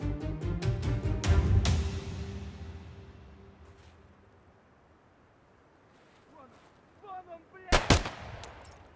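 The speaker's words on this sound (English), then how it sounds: "he shot at him" Gunfire in the video game Escape from Tarkov: a rapid burst of sharp, loud shots opening the clip with a long echoing tail, then quieter movement sounds and a second close burst of shots near the end.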